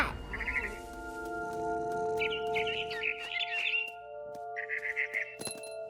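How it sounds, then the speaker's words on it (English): A barn swallow in the video game What Remains of Edith Finch chirps in short trilling bursts, three separate chattering phrases over a steady background tone and soft rustling. "Then I heard chirping outside my window."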